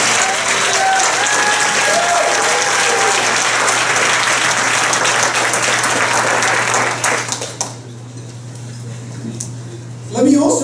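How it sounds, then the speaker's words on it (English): Audience applause at a national speech contest finals, steady loud clapping from a large crowd for about seven seconds before thinning out, then a brief burst at the end. "Round of applause, Steve."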